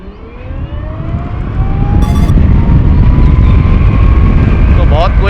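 A Hero Vida electric scooter accelerates hard from a standstill in sports mode, a rising whine climbing in pitch over steady road and wind rush that grows louder and holds near the rider.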